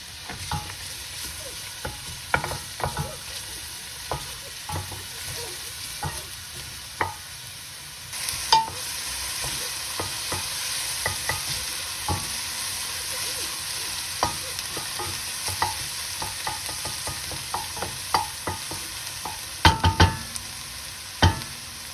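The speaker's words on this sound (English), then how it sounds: "we add the onion and we're gonna cook it, stirring occasionally for a couple of minutes" Chopped onion sizzles steadily in hot olive oil in a pan over medium heat, with frequent scraping clicks from stirring throughout and no voices.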